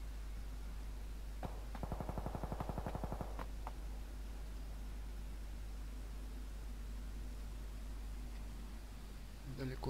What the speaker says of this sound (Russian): Стрельба есть, происходит.